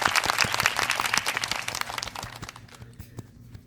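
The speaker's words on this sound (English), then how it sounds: "Can I get a clap?" Clapping bursts from a small group at close range, dense at first and thinning out over the last second.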